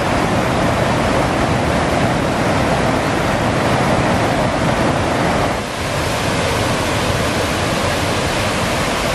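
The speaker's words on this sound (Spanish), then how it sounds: "Miren cómo se ve esa cascada." Steady, full-bodied roar of rushing water, continuous and loud throughout with no voices, like a waterfall heard up close, near La Ceiba, Honduras.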